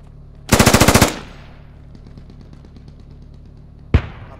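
A close, loud burst of about ten rapid automatic gunshots in the Squad video game, then a faint distant crackle of fire and one more sharp single shot near the end.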